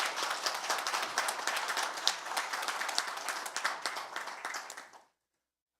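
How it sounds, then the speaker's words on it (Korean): An audience breaks into sustained, dense applause for Park Young-sun, Korean lawmaker, a steady crowd clapping at an even level for about five seconds before cutting off abruptly. "박영선 의원께도 여러분 뜨거운 격려의 박수 한번 부탁드립니다"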